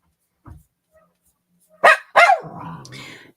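A dog indoors lets out a soft thump, then two sharp loud barks followed by a trailing growly whine, close to the microphone in an otherwise quiet room.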